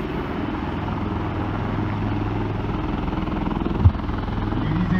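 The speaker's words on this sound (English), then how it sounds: "2 helicopters are being flown by Colonel Jyotishman Hazarika and Major Ros" A low, steady drone of two Indian Army helicopters hums throughout at moderate distance at the Deolali artillery centre in Nashik, with a brief sharp knock near the end.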